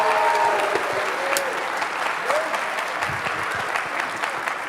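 Audience applause at a middle school cadet orchestra concert, steady dense clapping from a large crowd filling the hall throughout, with a few faint voices underneath.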